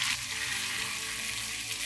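Hilsa fish fries in a pan over lowered heat, giving a steady close, dense sizzle that holds level throughout with no voices.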